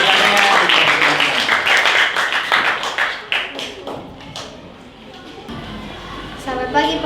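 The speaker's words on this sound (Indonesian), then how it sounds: "Kita tepuk tangan dulu untuk kelompok elang." Classroom applause for a presenting student group during a school lesson: a burst of clapping from a class that fades out over several seconds, with some talk mixed in.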